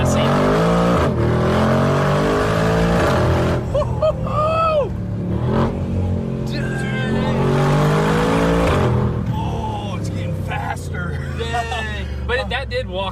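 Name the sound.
rebuilt Mercedes G63 G Wagon accelerating hard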